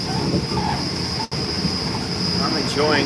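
Steady rumble of a passenger train running on rails between Bangkok and Surat Thani, a continuous close cabin noise with a high whine and brief squealing toward the end, no talk.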